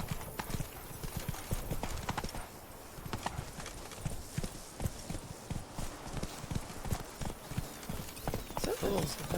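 Horse hooves clip-clop steadily at a brisk trot in the Witcher 3 video game, with soft background sounds and brief voice under the rhythmic beats.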